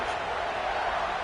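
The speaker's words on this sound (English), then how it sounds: "this crowd is buzzing after that last score" A football stadium crowd gives a steady, dense buzzing roar after a score, loud and continuous throughout the short stretch with no distinct voices standing out.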